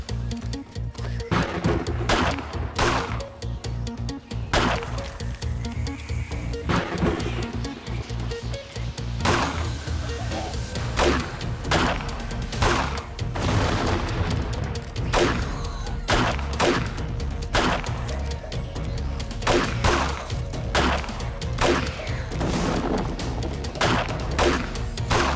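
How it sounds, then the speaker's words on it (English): Pistol shots fired at zombies during a horde night in 7 Days To Die, sharp separate cracks spaced irregularly over a dense bed of game noise, some in quick pairs, loud throughout. "maybe I soften him up with the pistol, because it doesn't do as much damage"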